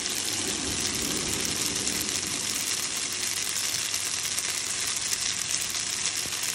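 Food frying in a pan, a dense steady sizzle and crackle close by, continuous throughout with no talk.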